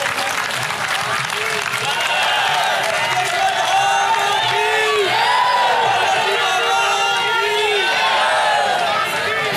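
A crowd bursts into loud, sustained applause mixed with cheering to welcome a guest at the Ganga aarti at Parmarth Niketan in Rishikesh, Uttarakhand. Dense clapping fills the whole stretch at an even level, with scattered whoops and voices in the mix.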